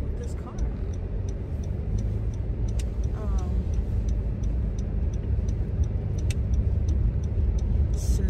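Steady low rumble from inside a car driving on slushy winter roads, with a soft regular ticking like a turn signal running throughout.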